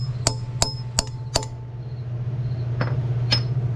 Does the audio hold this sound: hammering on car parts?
yes